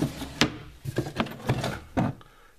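Wooden drawers packed with seed packets are slid open and shut in a business storage room, a series of close sliding scrapes and knocks coming at an uneven rhythm, about five or six in succession.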